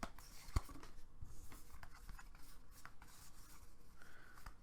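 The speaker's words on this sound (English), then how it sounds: "So you are going to shuffle these all together so that they are randomized." Hexagonal cards from the Marvel Battleworld tabletop game are shuffled together. A quiet, continuous rustle of card faces rubbing and sliding goes on, with one sharp tap near the start and no voices.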